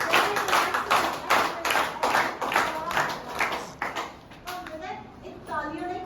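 Audience at a talk about herbal Ayurvedic medicine claps in a steady, fairly close round of applause that fades toward the end, with a few voices and a child's chatter mixed in.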